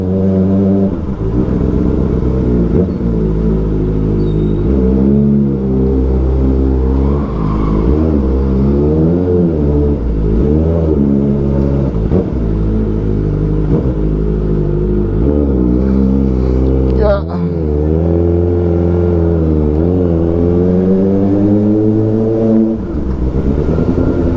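A Kawasaki ZX-4RR motorcycle engine revs continuously on a long mountain road ride, its whining pitch rising and falling through gear changes, loud and close throughout with no talking.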